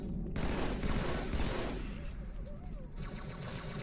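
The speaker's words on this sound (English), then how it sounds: "Stop shooting at me!" Dense, continuous gunfire and explosive rumble from a Halo 2 Legendary campaign firefight, a loud sustained barrage that thins slightly toward the end, with no speech.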